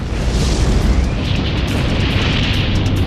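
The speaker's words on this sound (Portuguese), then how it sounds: "Haverá uma enorme explosão." A deep, sustained rumbling roar, loud and unbroken, like a massive explosion rolling on for several seconds.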